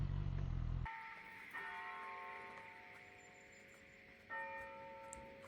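Church bells ring out over an isolated spot in Corsica, several bright sustained tones layered and overlapping, with a fresh strike near the end, heard after a motorcycle engine (a BMW S1000XR) cuts out.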